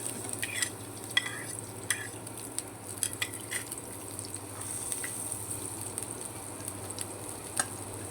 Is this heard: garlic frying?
yes